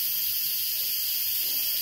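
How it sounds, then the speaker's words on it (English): An Instant Pot pressure valve vents steam in a steady, loud high-pitched hiss that holds constant throughout. "It's just letting the steam out."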